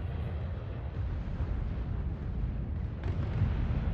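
Missile fire in the space game Starbase comes as a continuous low, rumbling roar with muffled booms, dense and steady throughout, with a slight swell near the end and no voices.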